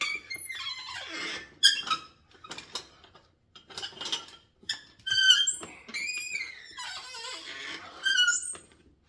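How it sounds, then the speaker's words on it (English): Shrill, repeated squeals come from an old exercise machine in a basement home gym, creaking in uneven bursts with brief pauses between movements, heard close and without speech. "I apologize for the squeaking, man. It's an old machine,"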